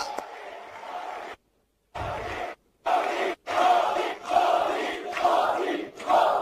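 A crowd at a public welcome for the Prime Minister, with loud sustained cheering and shouting in several bursts separated by short gaps of silence.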